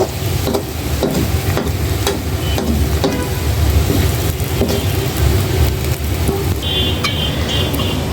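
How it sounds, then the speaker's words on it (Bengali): Potatoes frying and being stirred in a pan for an Ilish fish-roe potato bhaji, a steady sizzle with repeated scraping strokes of a spatula close by, running throughout with no talk. "এখানে আলু ভাজা"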